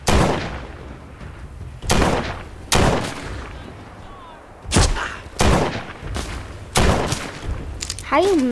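Gunshots in The Walking Dead: Saints & Sinners, about seven loud, sharp single shots spaced roughly a second apart, each with a short echoing tail, with brief voices between them.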